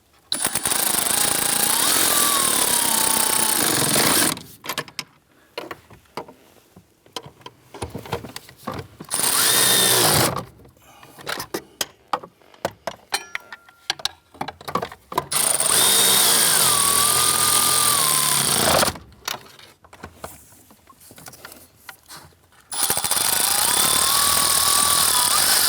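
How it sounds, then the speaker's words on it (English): A power tool tightens the 13mm nuts while replacing the blower motor module on a 2008-2013 Nissan Rogue, loud whirring bursts of several seconds each, separated by quieter pauses with light clicks and handling. "Let's go ahead and tighten down all 4 of the 13mm nuts."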